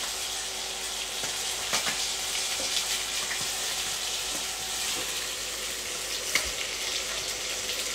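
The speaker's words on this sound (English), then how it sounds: "Just fry, keep on turning until your wings they are" Chicken wings fry in a pan with a steady, close crackling sizzle, occasional louder pops and spatters breaking through as they are turned, with no talking.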